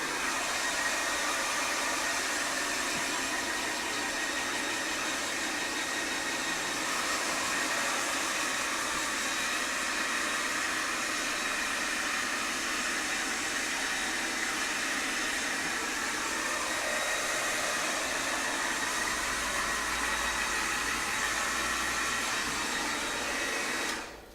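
A handheld blow dryer fitted with a concentrator nozzle runs steadily and loudly while drying hair, a continuous broadband whoosh that holds for the whole stretch with no talking, cutting off at the very end.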